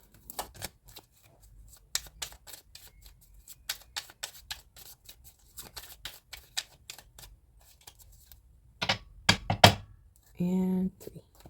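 Tarot cards drawn one at a time from a deck, giving a string of soft, close, dry taps and flicks, a few louder snaps and shuffles near the end with a brief voice.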